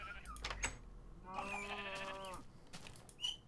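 Minecraft sheep bleating in a farm enclosure, a single drawn-out wavering bleat in the middle, fairly clear, with faint game noises around it.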